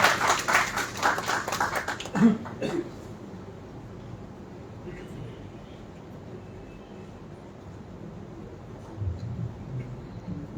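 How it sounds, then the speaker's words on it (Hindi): Audience applause welcoming a poet at a Hindi poetry award ceremony: a burst of clapping from a crowd in the first couple of seconds that quickly dies away into quiet room noise. "जोरदार तालियों से स्वागत करें"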